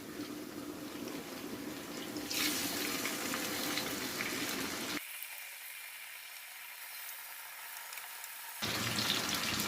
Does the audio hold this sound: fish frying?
yes